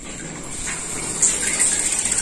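Water flowing from a shower head fed through a booster pump for a gas water heater, a steady close hiss with a brief surge partway through, heard alone without talk.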